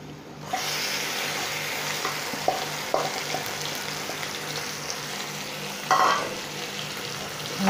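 Marinated chicken tipped into a hot kadhai sizzles steadily with a broad frying hiss, broken by a few clinks and scrapes of stirring and a louder burst near the end.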